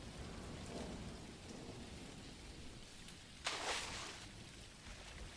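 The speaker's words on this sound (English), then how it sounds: "Oh, I just heard a little thunder." Rain falls steadily in the farming and fishing video game Dinkum, a soft hiss throughout, with a brief burst of thunder rumble and crackle near the end, fairly faint and without talk.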